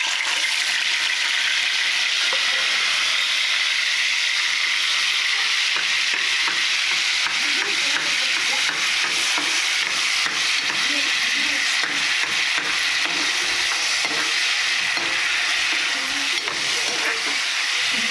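A blended paste of coriander, onion, tomato, ginger and garlic hisses and sizzles steadily in hot oil, a dense continuous crackle with faint stirring scrapes throughout and no talking.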